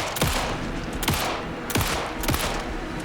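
Gunfire in the video game Alan Wake 2: four heavy, sharp bursts spaced about a second apart, each with a quick falling tail, over a steady rumbling game background.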